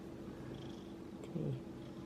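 A cat purrs quietly in a low, steady rumble, broken by a brief higher vocal sound near the end, with no talking.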